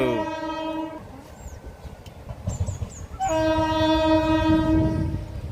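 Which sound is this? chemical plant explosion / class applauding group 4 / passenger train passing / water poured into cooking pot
passenger train passing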